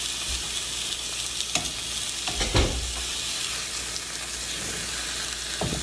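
Steak frying in a pan with a steady sizzle throughout, plus a few louder bursts of spatter and scraping as the meat is turned over, fairly close and without talk.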